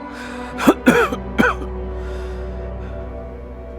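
A man gives a short run of three harsh, throaty coughs in a quiet indoor room, close and clear, followed by near silence.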